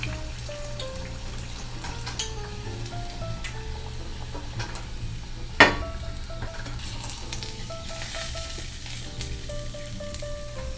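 Coated tofu deep-frying in hot oil, a steady close sizzle and crackle running throughout with faint background music tones and one sharp clink midway.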